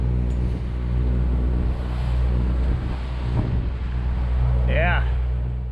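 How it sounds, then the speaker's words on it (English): Strong wind buffets the microphone aboard a sailboat passing the island of Bequia, with steady roaring gusts, water and hull noise underneath and a brief whistling squeal near the end. "Wind's definitely picked up now."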